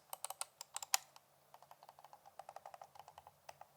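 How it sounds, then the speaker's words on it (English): A cheap Shein wireless computer mouse gives quiet, close clicks from its left and right buttons, a quick series of light taps in irregular bursts, soft and alone. "your left and right pointer buttons here are actually quite quiet"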